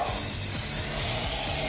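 A cleaning product is sprayed onto car wheels and steel brake discs, a close, continuous hiss that holds steady and loud through the whole short burst.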